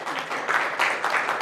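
A church congregation claps briefly in a short, dense burst of applause at moderate loudness, with voices faintly mixed in.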